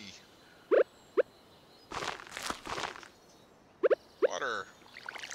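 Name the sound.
hoe digging plots for seeds in the video game Stardew Valley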